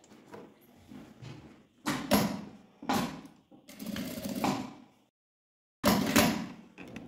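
A sewing machine stitches over the lining of a fabric eyeglass case. Several short, mechanical bursts of stitching are broken by brief pauses and a longer silence before a final run.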